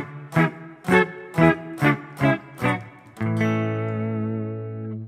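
An electric guitar run through effects plays a harmonized major-scale chord progression: six evenly spaced strummed chords, then a final chord left ringing and sustained, with no voices.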